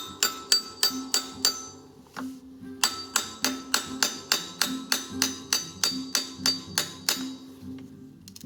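A lock nut on a bicycle bottom bracket cup is tapped with a tool to tighten it, giving a quick run of about twenty sharp metallic knocks in a steady rhythm, with a brief pause partway through, up close and clear.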